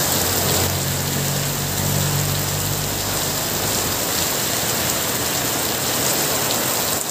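Heavy sudden downpour drenching the area, a dense continuous hiss of rain pouring onto surfaces, loud and unbroken, with a low engine-like hum fading in the first few seconds and no voices.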